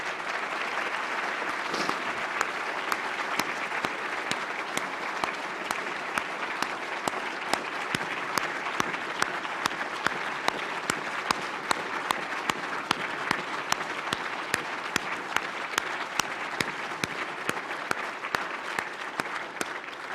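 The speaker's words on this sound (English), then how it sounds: "Let's have a round of applause for them." An audience at a National Academy of Medicine annual meeting gives new members a long, steady round of applause, with dense clapping and sharp individual claps throughout.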